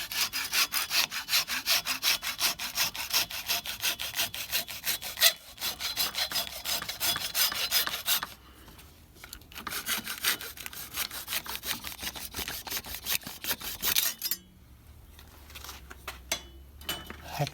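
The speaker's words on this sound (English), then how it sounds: "Hacksaw the excess off." A hacksaw cuts the excess off a wooden transmission band for a Model T Ford, with fast, steady back-and-forth rasping strokes, close and loud, pausing twice briefly before resuming.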